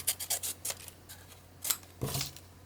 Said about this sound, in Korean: 반으로 접고 대각선으로 한 4cm 정도 자르고